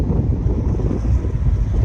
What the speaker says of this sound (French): Le vent nous plaque un peu, mais ça va aller.